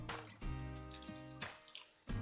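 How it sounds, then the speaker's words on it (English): Half a cup of warm water poured into a bowl of sourdough pretzel bun ingredients with brown sugar, a close, quiet liquid trickle and splashing with small drips, a few short pauses between pours. "Next we're going to add in half a cup of warm water."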